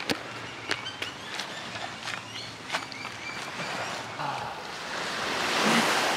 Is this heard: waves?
yes